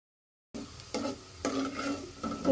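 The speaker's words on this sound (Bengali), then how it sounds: "তারপর দিয়ে দিব পেঁয়াজ কুচি। পেঁয়াজ কুচি ভালোভাবে ভেজে নিব।" Chopped onions fry in oil in a pot after a short silent start: a moderate sizzle rises in bursts as they are stirred, with a few scraping strokes and no voices.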